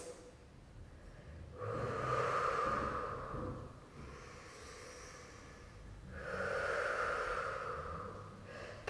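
Two long, breathy exhales through pursed lips during a home Pilates exercise, each swelling and fading over a couple of seconds. The breaths are close but soft, with a quiet pause between them and no speech.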